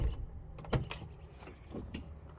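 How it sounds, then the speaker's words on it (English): Door of a Dodge van fitted with sound deadener opening, a soft muted latch click and thud followed by a few faint rattles and creaks, heard close and alone. "when you open the door,"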